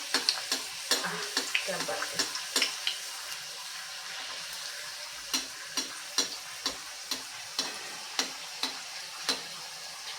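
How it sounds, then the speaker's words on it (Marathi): Fenugreek puris frying in hot oil in a kadhai over medium heat, a steady bright sizzle broken by frequent sharp crackles and pops, close and fairly soft throughout. "आता त्याच्यामध्ये एक एक पुरी आपण सोडून घेऊया अशा पद्धतीने गॅस मी मिडियम आचेवरच ठेवलेला आहे"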